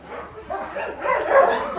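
Dog barks, a few short yips and whimpery barks at close range, fairly loud and overlapping one another in a busy indoor-sounding space with other noise around.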